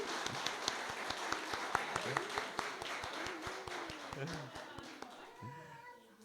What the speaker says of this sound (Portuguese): uma salva de palmas para essas mulheres